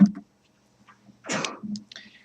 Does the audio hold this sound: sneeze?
yes